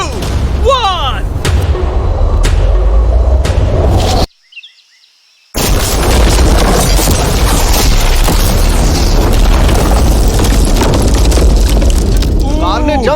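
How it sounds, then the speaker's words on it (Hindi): A blast set off against an explosion-proof car lands as a loud, heavy boom, followed by a sudden drop to near silence, then a long, dense roar of debris and rumble that continues to the end. "कार को उस ब्लास्ट के बाद बस कुछ ही स्क्रैचेस आए हैं।"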